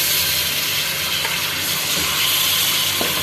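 Meat sizzling loudly in hot cooking oil, left from browning onions, for a degi korma, a dense, steady, close frying hiss with occasional crackles and no talking.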